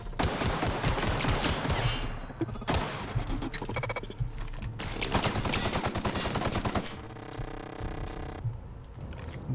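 Rapid gunfire in The Outer Worlds, with dense bursts of automatic shots and clattering mechanical noises filling the whole stretch, loud and continuous with only brief lulls.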